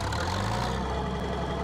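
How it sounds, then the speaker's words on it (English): Harvester engine in the Farming Simulator 19 video game, a steady low rumbling drone that holds at an even level throughout, with no talk over it. "Please start the engine, yes, yes."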